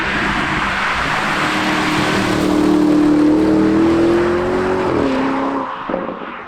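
A 2021 Porsche Cayenne Turbo GT, a 640 hp super sports SUV, revs loudly and close, its engine note rising steadily to a peak before dropping sharply and fading as it pulls away.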